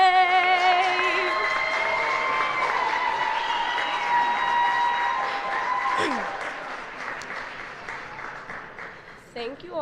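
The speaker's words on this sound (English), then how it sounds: "Thank you all so much for the applause." Audience applause and some cheering fill a hall after the national anthem at a city's State of the City address, steady and sustained, tapering slightly toward the end with a voice rising over it.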